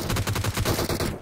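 Rapid automatic gunfire in PUBG Mobile, a tight burst of about a dozen evenly spaced loud shots lasting just over a second.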